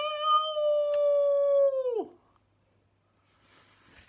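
A voice drawing out a long, wailing meow imitation that bends down at the end, followed by near silence and faint rustling.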